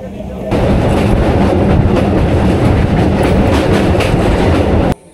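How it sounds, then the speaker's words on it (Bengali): Passenger train running on rails near Somra Bazar station, a loud, close, steady roar with rhythmic clickety-clack that starts abruptly and cuts off just before the end. "এইমাত্রই ট্রেন থেকে নামলাম সুমরা বাজার।"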